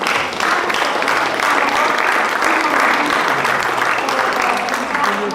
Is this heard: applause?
yes